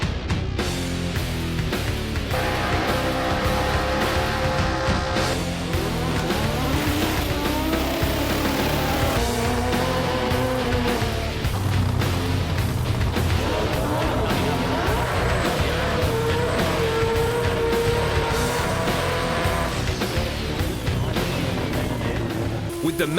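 Race cars at a Haltech Grudge Kings drag racing event in Sydney, with a continuous loud roar of engines revving and rising in pitch, a constant wash of motor noise throughout.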